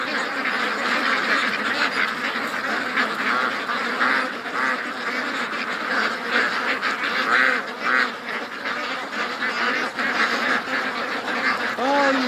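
Ducks quack and honk in an outdoor pen, a busy, overlapping chorus of calls close by, loud and continuous throughout with a few sharper squawks near the end.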